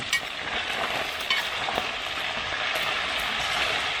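Marinated frogs crackle and sizzle steadily as they fry crisp in hot oil, a dense close-up hiss with scattered pops and no talking.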